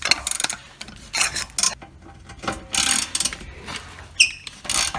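A 17 mm socket wrench works loose the rear brake caliper bolt on a 300ZX Turbo, with close, irregular metallic ratcheting clicks and tool clatter in bursts and brief gaps, with no talking.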